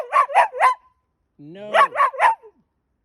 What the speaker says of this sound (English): you're not cute when you bark like that